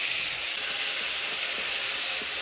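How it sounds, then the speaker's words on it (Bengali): Ground spice paste of coriander, cumin, ginger and radhuni with turmeric and salt frying in hot mustard-oil tempering with dried chilli, whole cumin and bay leaf, a loud steady hiss and sizzle filling the whole moment without any speech. "মশলাটা ফোড়ন তেলে নাড়াচাড়া করে নিলাম"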